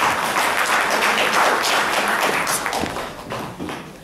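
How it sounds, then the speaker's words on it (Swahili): Audience at a Tanzanian community association's annual general meeting in Coventry claps for a speaker being welcomed; the applause is full at first, then thins out and fades toward the end. "Tumpigie makofi kidogo na"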